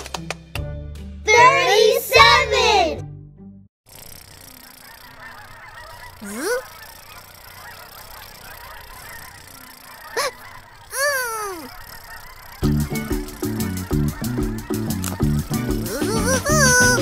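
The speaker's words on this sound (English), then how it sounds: "Sam joined the 37 geese that were heading south for the winter." Geese honking in a children's counting app, several sharp bright honks in quick bursts alongside cheerful chiming music notes, with a few lone honks in the quieter middle stretch.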